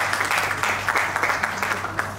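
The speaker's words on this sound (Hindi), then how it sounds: "तो एक बार तालियों से अभिनंदन कीजिए डॉक्टर DK शमी साहब।" An audience at a lifeguard and fire safety event in India applauds, a steady patter of many hands clapping at moderate loudness with small swells, no talk over it.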